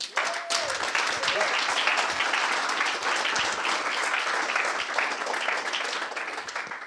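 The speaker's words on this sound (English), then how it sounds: "Let's give him a big round of applause." Audience applause greets a speaker at PyCon Italia 2024, a full, sustained wash of clapping from a sizable room that swells quickly and holds steady, with faint voices mixed underneath.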